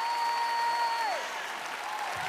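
Applause from an audience at a gospel church service, a steady wash of many hands clapping under a sustained singing tone that glides downward.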